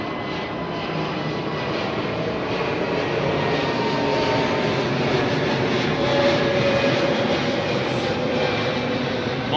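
All Nippon Airways airliner at London Heathrow, heard as a steady, broad engine roar that holds fairly loud and constant throughout, with a faint whine layered over the rumble.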